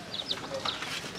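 Newly hatched baby chicks cheep in short, high, thin peeps scattered over a second, close by, over a noisy indoor background.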